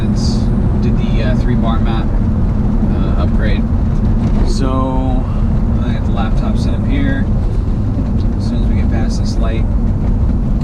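Engine and road roar from a 2000 Audi B5 S4 with an all-wheel-drive conversion and a 3-bar map upgrade, a loud steady drone from inside the car while someone speaks briefly over it.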